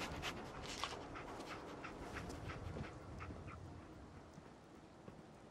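Dogmeat, the German Shepherd companion in Fallout 4, gives faint whimpering and panting sounds across a steady noisy game background, with no talking.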